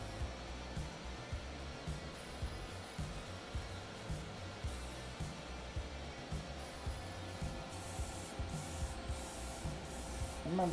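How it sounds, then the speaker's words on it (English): Short, regular bursts of aerosol spray paint coat the parts of a Master Grade GM 2.0 plastic robot model kit, repeating in a steady rhythm close by over a constant low background hum. "Quick sprays and then move up. Make sure everything gets covered."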